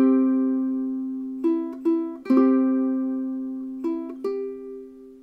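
A ukulele picks out the opening three bars of Brahms' Lullaby, with clear plucked notes and strums ringing over a sustained tone, played alone at moderate volume with no talking.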